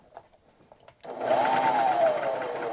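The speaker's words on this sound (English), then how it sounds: "if I have my blade cutting and I get all the way to this end, it is going to surely cut my previous stitches" A serger sewing machine stitches denim with its cutting blade running, starting abruptly after faint handling noises and then whirring loudly and steadily up close.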